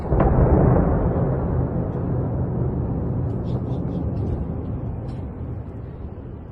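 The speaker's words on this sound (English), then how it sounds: "We can hear the explosions and also see the smoke rising from the central area of the city" Israeli airstrikes on Beirut heard as a heavy, distant boom that swells into a deep, rolling rumble, lingering for several seconds and slowly fading.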